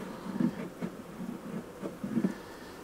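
Young, small, fluffy honey bee buzzing near a hive during a beekeeping check, a soft, low drone that swells and fades in repeated pulses, faint and close, with no talking.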